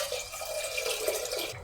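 Water pouring steadily into a pot of lentils (dal) for cooking, a continuous close splashing rush that cuts off near the end, with no talking.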